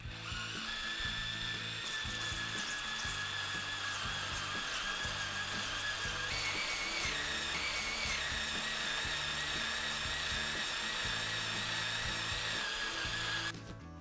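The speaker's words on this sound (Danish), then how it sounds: "sætter mit hulbor til her. Og igen med lav hastighed." A hole saw bores slowly through a sheet of acrylic plexiglass, a steady whining grind with a high squeal that runs almost unbroken for about thirteen seconds, then stops abruptly.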